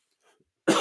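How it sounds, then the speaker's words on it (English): A single sharp, loud cough from a man who is ill bursts in suddenly near the end, after a near-silent stretch with only a faint murmur. "I'm not editing out the coughs"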